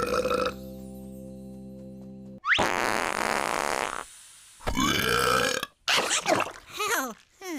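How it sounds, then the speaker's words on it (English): A cartoon bat character lets out several loud, exaggerated burps in separate bursts, some long and warbling, broken by short gaps. "I accidentally gave myself that burps."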